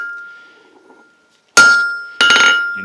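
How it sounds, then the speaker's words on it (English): A blacksmith's hammer, held at an angle, strikes a round steel rod twice, each blow a loud, sharp, ringing metallic clang with a lingering tone, separated by a short quiet gap. "hold it at an angle, hold your hammer at an angle, like over exaggerated here, but it's more like this, and you hit it."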